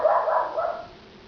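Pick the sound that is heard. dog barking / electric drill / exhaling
dog barking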